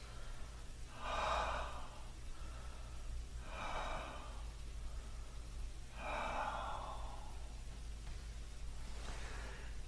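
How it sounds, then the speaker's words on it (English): Slow, deep breaths during a yoga stretch, three long airy inhale-exhale swells spaced a couple of seconds apart, close and quiet over a low steady hum. "And breathe, 3 deep breaths."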